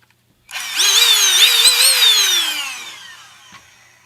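An electric air blower switches on abruptly and runs loud and steady for about two seconds, its whining pitch wavering, then spins down and fades while a faint click sounds near the end, with nobody talking.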